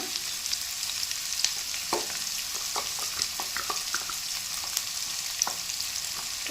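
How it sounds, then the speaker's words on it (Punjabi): Onions and chillies sizzle steadily in a hot pan, with a constant bright frying hiss and occasional light stirring clicks. The sound is close and continuous, and no voices are heard. "ਇਸ ਤੋਂ ਬਾਅਦ ਪਾ ਦਿੰਦੇ ਆ ਪਿਆਜ਼ ਮਿਰਚਾਂ"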